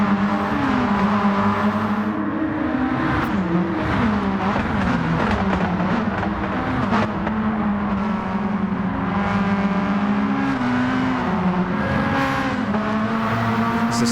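Race car engines roar in Gran Turismo 7 daily races, a continuous loud, dense drone of several cars with rising and falling revs and gear shifts throughout, no voices heard.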